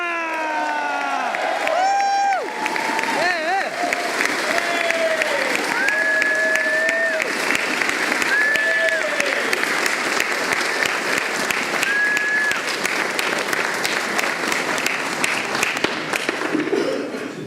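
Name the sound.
crowd cheering and applause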